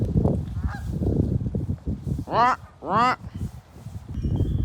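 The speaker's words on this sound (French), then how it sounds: "avec les petites oies" Two loud, close goose honks ring out in quick succession amid low, muffled voices and outdoor rumble, by a lake in a forest.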